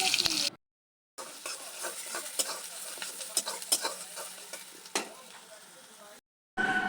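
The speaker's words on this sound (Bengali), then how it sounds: "প্রথমে গরম তেলে দিয়ে দিলাম কুচি করে রাখা পেঁয়াজ।" Finely chopped onions fry in hot oil in a wok, making a close sizzle with repeated scraping and clacking of a spatula stirring. The sound cuts out to silence at two points.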